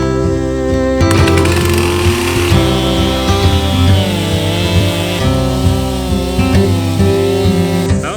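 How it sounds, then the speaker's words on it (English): A chainsaw runs steadily and loudly, cutting further down into wood at a house build site, its engine drone holding nearly constant with slight pitch dips as the chain bites. "I'm trying to make sure there's no rocks in here before I start cutting this further down with the chainsaw."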